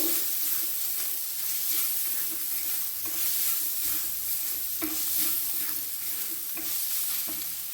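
Cumin powder and black pepper being stirred in a hot pan, a continuous hissing sizzle with rhythmic scrapes of the spoon every second or so, close and steady.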